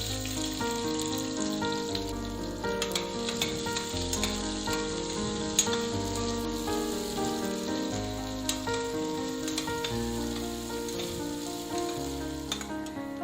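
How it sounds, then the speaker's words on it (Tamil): Two medium onions sautéing in a pan for tomato kurma give a steady, close sizzle with a low background hum and occasional stirring scrapes, no talk over it. "வெங்காயம் ஓரளவுக்கு வதங்கி வரணும், அப்பதான் குருமா நல்ல டேஸ்டியா இருக்கும்."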